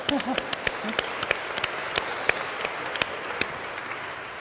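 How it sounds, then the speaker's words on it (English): An audience at a church panel discussion applauds steadily, a dense wash of clapping with a few sharp individual claps standing out, fairly close and unbroken for the whole stretch. "Let's give her a round of applause."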